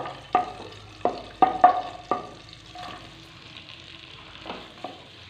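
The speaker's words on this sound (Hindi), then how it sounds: "तो अब इसमें शामिल करते हैं प्याज।" Onions fry in a pot with cinnamon and cardamom, giving a soft, continuous sizzle broken by several sharp clinks and scrapes from stirring, close by and with no talk.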